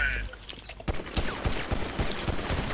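Gunfire in Grand Theft Auto V Online crackles in a fast run of shots after a brief opening sound, the reports loud and regular, with a voice faintly mixed in.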